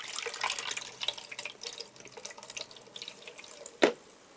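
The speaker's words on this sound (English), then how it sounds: "So let's pour some water in it." Water poured into an empty ultrasonic humidifier's tank, a broad splashing trickle running steadily with small gurgles and a sharper splash near the end, close and fairly quiet.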